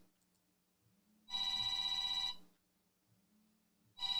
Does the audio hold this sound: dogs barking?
no